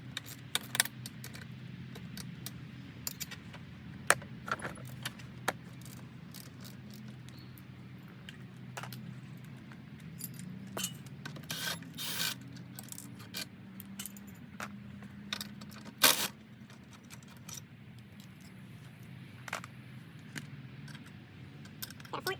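Metal tools clink and tap while the top motor mount plate comes off a 1991 Yamaha YZ250 dirt bike, scattered jangles and sharp knocks spread over a long stretch, one louder clang near the middle, with no voices.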